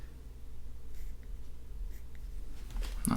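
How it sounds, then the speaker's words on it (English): A white pencil on watercolor paper makes a faint, soft scratchy stroke for a dog's whisker, quiet and close against low background hum. "So I'm going to do his whisker with white pencil"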